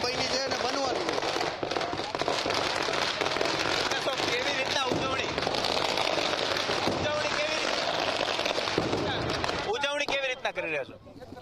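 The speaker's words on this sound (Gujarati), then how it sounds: "રાજકોટ ભાજપ પરિવાર ફટાકડા ફોડી રહ્યા છે" Firecrackers going off at a BJP district party office in Rajkot during a victory celebration, a dense run of crackling bursts with sharp pops, loud and continuous, mixed with crowd noise and voices talking.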